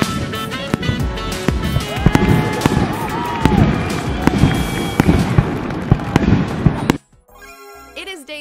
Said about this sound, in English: they are doing fireworks tonight